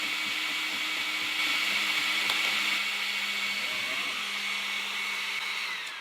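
An Ortur Laser Master 3 laser engraver burning a logo into resin, a steady droning whir with a faint low hum underneath, continuous and fairly close.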